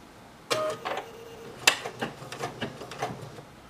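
A BERNINA 880 computerized sewing and embroidery machine runs in a short mechanical whir, followed by a string of light clicks and clatters as it stitches at close range.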